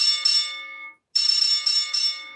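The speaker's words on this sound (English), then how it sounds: "Like a boxing bell." A boxing bell rings loudly twice, each a sustained bright metallic clang with a fast rattling shimmer, separated by a short silent gap.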